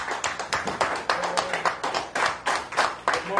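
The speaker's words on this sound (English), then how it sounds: "give him a round of applause" Clapping from a church congregation at a praise and worship service welcomes an instrumentalist, with uneven, loosely rhythmic claps at moderate volume and some voices mixed in.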